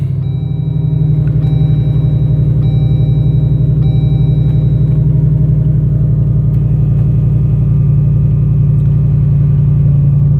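A Jeep Gladiator fitted with a swapped 392 Hemi V8 fires up and settles into a loud, steady, pulsing idle rumble, heard close and alone.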